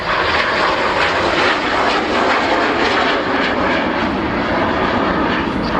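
A vintage jet aircraft roars steadily past at an airshow, circling at around 160 knots; the loud, continuous broadband engine noise holds without a break, close and dominant, with no voices over it.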